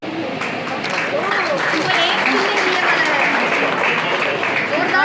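An audience at a welfare trust ceremony honouring NEET-qualified students breaks into loud, sustained applause, dense clapping that fills the whole stretch with murmuring voices mixed in.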